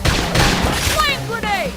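Gunfire from a squad shooter video game, bursts of shots under game voices shouting callouts, dense and loud throughout.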